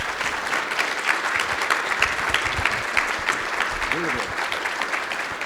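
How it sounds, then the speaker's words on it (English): A crowd applauds steadily throughout, dense clapping from many hands at a constant level. "I would like to ask you for a round of applause for this panel."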